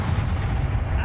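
A booming spell explosion from the Expulso charm in Hogwarts Legacy, a dense low rumbling blast that fills the whole moment at close range with no pause.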